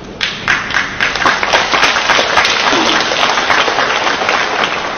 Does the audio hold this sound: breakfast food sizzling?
no